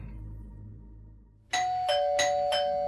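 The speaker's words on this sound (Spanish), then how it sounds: "Tras 6 toques de timbre, Ben finalmente abrió la puerta." A doorbell rings in a narrated horror story, four bright electronic ding-dong chimes in quick succession after a quiet lead-in, loud and close, with no talking over them.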